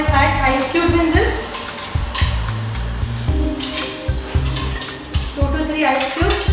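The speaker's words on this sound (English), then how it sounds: "Now I'll add ice cubes in this," Ice cubes drop into a bowl of chopped watermelon with lemon juice and sugar for a sorbet, making clinks and knocks against the dish among busy kitchen clatter, close by.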